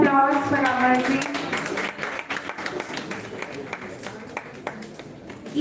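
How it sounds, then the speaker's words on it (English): An audience at a national-level college oratory contest applauds a contestant, with a voice speaking over the start before the clapping carries on alone as a steady, moderately loud crowd patter. "Give a big round of applause for Amarjit."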